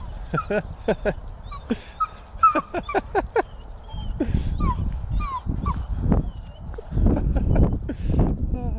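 A dog whines and whimpers in high, wavering cries, mixed with scuffling and soft thumps nearby, while a person talks in the background.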